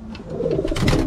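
Pigeons coo in a loft where a breeder keeps and feeds his racing birds, their low, throaty calls rolling steadily and close, several birds overlapping with soft rustling.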